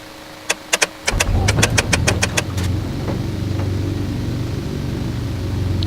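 A small aircraft piston engine cranks and starts, with sharp clicks before the starter, then a stuttering catch that settles into a steady, close, rumbling idle.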